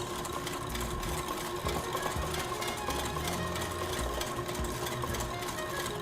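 A large electric mixer beating eggs for a pineapple cake batter, a steady motor whir with a rhythmic churning pulse that runs unbroken and fairly loud throughout.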